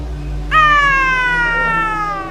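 A voice lets out a long, loud, wavering screech imitating a Tonkinese cat's yowl, starting abruptly and trailing off.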